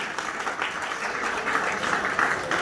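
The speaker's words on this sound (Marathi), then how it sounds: "जोरदार पुनश्च एकदा आपण टाळ्या वाजवूया" Applause from an audience at a felicitation ceremony honoring a newly elected municipal corporator, a steady wash of many hands clapping for a few seconds with no voices over it.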